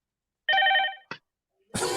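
A telephone rings in a short burst of bright, repeated electronic tones, followed by a brief second ring, then louder noise at the end. The ringing is heard alone, with no talk over it.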